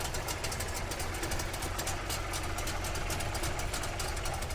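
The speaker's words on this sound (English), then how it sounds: "You can hear the sound of it, that you can count every individual explosions in the engine." A Wartburg car engine idles unevenly, its firing pulses irregular and distinct, running steadily at moderate loudness throughout with no talk over it.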